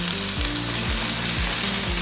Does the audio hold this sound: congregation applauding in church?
no